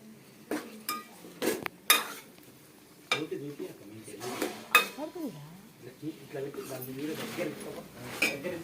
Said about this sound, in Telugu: బోటి మొత్తం డీప్ ఫ్రై చేస్తున్నా.